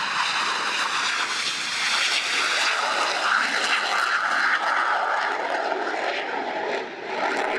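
A combat aircraft finishes its flying display at the Royal International Air Tattoo air show, its engine roar loud and continuous throughout, swelling and easing slightly as it passes.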